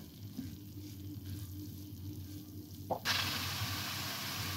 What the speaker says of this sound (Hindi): सारे स्पाइसेस को वेजिटेबल के साथ अच्छे से मिक्स करेंगे।